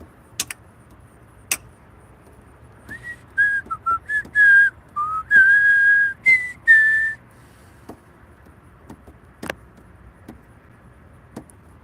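A person whistles a theme song in a short, bright melodic phrase of quick notes lasting a few seconds mid-clip, with scattered clicks and taps before and after in an otherwise quiet room.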